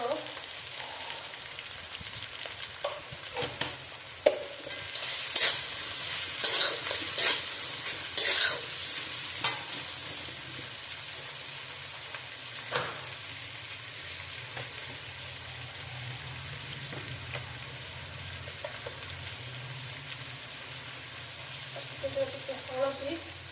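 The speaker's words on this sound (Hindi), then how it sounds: "हलदी भल मिक्स कर फ्राए करना" Rohu fish, mixed with turmeric, fries in hot oil for curry. A steady close sizzle runs throughout, broken by sharp scraping and clattering stirs that cluster in the first half.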